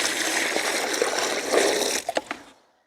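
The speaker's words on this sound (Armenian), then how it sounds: "Ես դույլի մեջ ջուր կա, լցնեմ այստեղ։" Water pours from a bucket in a steady splashing gush lasting about two seconds, then ends with a few final drips and splashes before falling silent.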